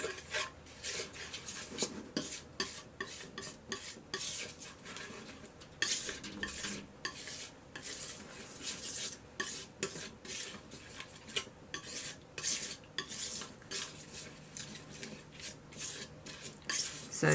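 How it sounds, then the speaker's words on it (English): Gum arabic being stirred and ground into glass trace paint, giving a steady run of close scraping and tapping strokes against a hard surface, with brief pauses between bursts and no talking. "So that means I've got to mix some gum arabic in."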